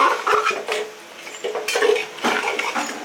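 Mutton with turmeric is stirred in a cooker pot, giving a series of scraping clinks of a metal spoon against the pot, with several sharp knocks and rattles at irregular intervals, close and fairly loud.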